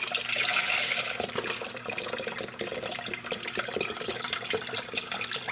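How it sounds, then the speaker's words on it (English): Chicken broth pours from a container into a pot in a steady, close, splashy liquid stream, strongest at the start, with no talking. "we're going to take one container of chicken broth. Yes, one container of chicken broth. We're going to pour it into a pot."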